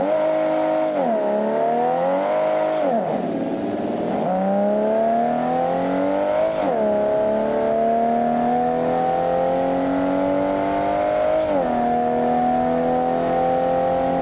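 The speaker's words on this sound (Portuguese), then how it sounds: "Vamos dar um acelero na ponte." A modded Toyota Supra in BeamNG.Drive revs hard through repeated gear shifts. The engine note climbs, drops sharply at each shift and climbs again in a loud, sustained acceleration with no talk over it.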